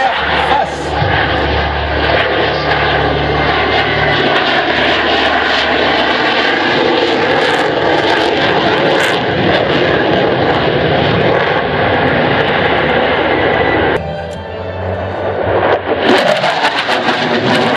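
Vintage propeller aircraft flying at the Le Temps des Hélices 2018 air show at Cerny–La Ferté-Alais, a loud steady engine drone lasting throughout, with an announcer's voice over it and a brief dip near the end before the roar returns.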